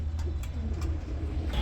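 Pigeons cooing steadily at a bird market, low throaty coos overlapping in a continuous murmur with a few faint ticking sounds in the background.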